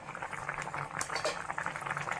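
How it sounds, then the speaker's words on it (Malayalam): Fish curry boils in a pot, with a steady, close bubbling and popping that goes on continuously without talk. "മീൻകറി ഇങ്ങനെ നന്നായി തിളച്ചുകൊണ്ട് ഇരിക്കുന്നു"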